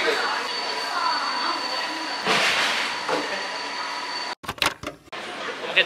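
A Hong Kong tram rumbles and rattles along its tracks in a continuous close roar, then gives way to choppy clattering bursts and brief gaps near the end.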